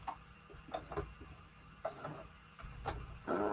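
A sewing machine stitches layered paper junk journal pieces with a soft, rhythmic ticking at close range, in short runs separated by brief pauses.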